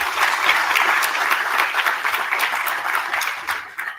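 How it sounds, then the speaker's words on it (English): An audience at a BBA inauguration ceremony applauds the parents, with dense, steady clapping filling the whole stretch at close range before tapering slightly at the end. "First, I'd like you to applaud them for all the support they've given you till date."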